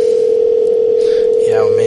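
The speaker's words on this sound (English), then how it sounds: "I think we're ringing him right now." A steady ringback tone plays on an outgoing phone call during a podcast recording, with voices talking faintly over it near the end.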